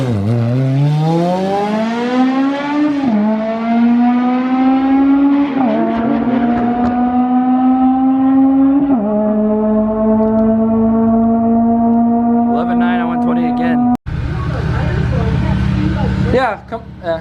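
An engine at the end of a racing season revs hard and holds a high droning pitch that climbs and drops with each throttle change, loud and close, then cuts off abruptly before a rougher burst near the end.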